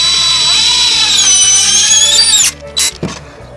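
Power drill whining loudly as it drives a screw into a chicken coop, the pitch rising as the screw seats, then stopping, followed by two short clicks and clatters.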